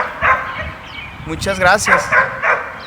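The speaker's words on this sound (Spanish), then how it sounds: "El perro." A dog barks several times in short yips at a garden, close and fairly loud, while a person speaks Spanish over and between the barks.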